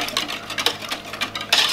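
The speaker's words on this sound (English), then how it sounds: "So I'm just gonna stir this up" Stirring a milky mixture in a container for water glassing eggs, with irregular clinks and scrapes of a utensil against the vessel, close and fairly loud, with no voices.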